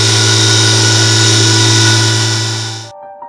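A Honda GX35 four-stroke engine on a desktop dynamometer runs at a steady, loud, droning pitch with strong tonal hum, then abruptly shuts off, leaving a brief quiet tail.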